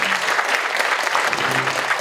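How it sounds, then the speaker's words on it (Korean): An audience at a church charity Thanksgiving dinner gives a round of applause, dense mixed clapping throughout at a lively, fairly loud level with a faint voice underneath. "이쯤에서 한번 박수 한번 주시죠"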